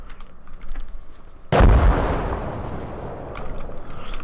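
Gunfire and artillery in the Gates of Hell war game, one heavy close boom that rolls into a long decaying rumble, with lighter distant shots before and after.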